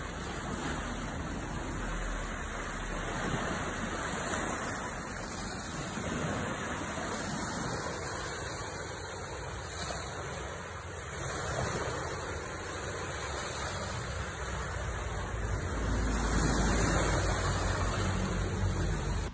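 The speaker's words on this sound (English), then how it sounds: "Listen to the early morning sounds of the ocean in Lambo this morning." Early morning ocean waves at Lambo, Tobago wash in as a continuous broad roar, with gentle swells rising and falling and a louder surge near the end, heard alone without voices.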